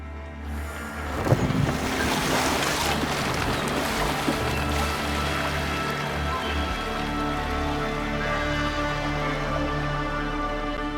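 Sailing boat out on open sea in Assassin's Creed Valhalla, a steady broad wash of waves and wind against the hull running throughout, with a brief heavier splash early on.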